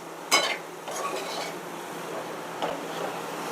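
Broccoli with salt and spices stirred in a pan makes a few brief scrapes and rustles of a spoon. The first is sharpest, over a quiet background.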